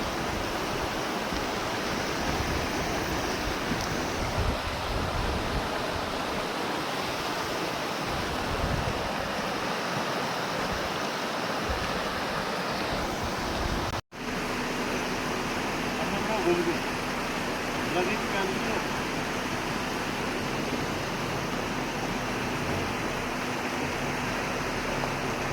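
River water flowing steadily in Jim Corbett National Park, a broad continuous rushing wash heard close and fairly loud throughout, with a brief dropout midway.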